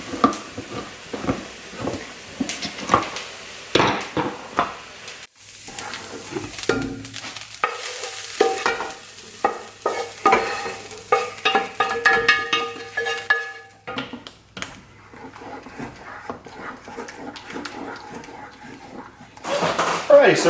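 Vegan corn mince being pushed around and fried in a pot, with scraping stirs, soft sizzling and a few knocks of utensils, under intermittent talking.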